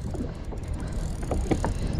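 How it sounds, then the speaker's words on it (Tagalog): A kayak turns on open water off Dubai during a fishing trip: paddle splashes and hull sloshes sound close, with wind buffeting the microphone. "Baling natin yung kayak."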